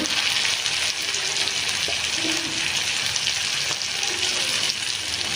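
Cumin and coriander powder fry in a pan with a loud, steady, close-up sizzle that hisses continuously throughout, with faint scraping from a spatula underneath.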